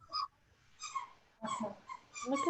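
Faint, high-pitched squeaks and whimpers from newborn puppies come in short clusters, soft and close, with quiet gaps between.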